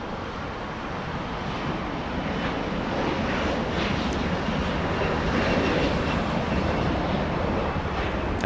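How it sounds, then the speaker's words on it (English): An Embraer E-175 jet departs Los Angeles International Airport with a loud, steady broadband engine roar that swells slightly and holds throughout, with no voices. "All right, little E-175 out of here."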